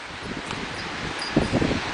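Wind gusting through leaves at an outdoor cemetery where flags are set out for Memorial Day, a steady broadband rustle with a slightly stronger gust near the end, with no voices.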